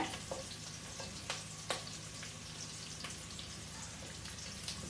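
Green chili, garlic, ginger, curry leaves and cumin sauté in hot oil in a pan, a faint, steady sizzle with occasional light clicks and stirring taps.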